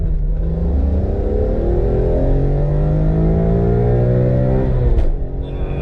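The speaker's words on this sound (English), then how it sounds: "I've got the gearbox in full aggression, we've got traction off, and it should kick down, and we're going to time 60 to 120" A BMW E46 CSL with an SMG gearbox accelerates hard after kick-down. A loud, close engine roar climbs steadily in pitch, then drops abruptly at a gear change near the end.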